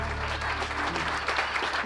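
Wedding guests applaud for the bride and groom, Emmanuel and Karina. A steady crowd of clapping hands rolls on without a break, moderately faint, over a low background hum.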